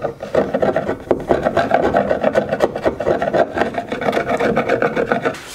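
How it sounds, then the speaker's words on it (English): A scraper rasps dried wood glue off the back of a tongue-and-groove panel glued up from pallet wood, in steady repeated strokes that are close and loud, with no talking. "I'm gonna gently scrape that off before we run it through the planer"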